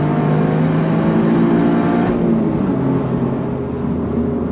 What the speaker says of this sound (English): After a couple rips down through third gear all the way to redline, this exhaust is awesome.